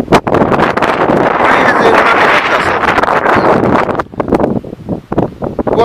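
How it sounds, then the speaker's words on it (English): Strong wind roars and buffets the microphone loudly and steadily at a high spot, easing near the end as muffled voices come through. "It is windy up here"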